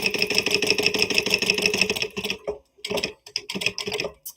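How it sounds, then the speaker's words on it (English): A sewing machine top stitching a fabric piece runs in a fast, even mechanical rattle for about two seconds. It stops, then starts again in a few short, choppy bursts with gaps between them, close and fairly loud. "I'm just going to go ahead and top stitch the top of my"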